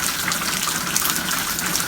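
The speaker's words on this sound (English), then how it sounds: "After waiting for a month and a half, Mr. Rain came to visit." Heavy rain pours down in a residential subdivision, a steady, dense, close rushing hiss without pause or voices.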